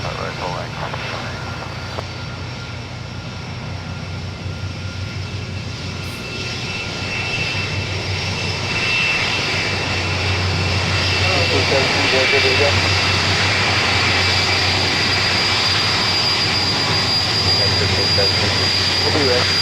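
A jet airliner takes off at Los Angeles International Airport, its engine roar loud and steady, building in intensity over the span, with radio voices talking over it.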